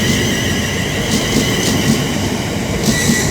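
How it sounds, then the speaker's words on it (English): A Class 350 electric train pulls into Birmingham International station with a continuous loud rumble of wheels on rail, plus a faint tonal whine and repeated soft clicks as the carriages pass. "there should be another 350 coming in as well with a service bound for Birmingham New Street from London"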